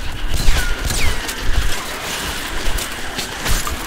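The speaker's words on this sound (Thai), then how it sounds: "ระเบิด ระเบิดดิอุ้ย" Explosions and combat sounds in Metro Last Light, with sharp bursts and clattering impacts over a busy, rumbling backdrop and several louder hits scattered throughout.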